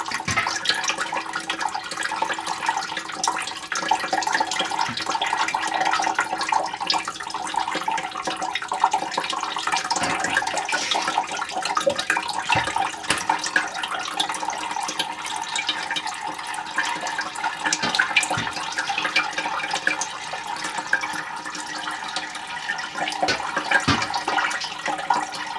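Whey drains steadily from feta cheese curds, a continuous close trickle and splash of liquid that holds a constant level throughout, with no voices.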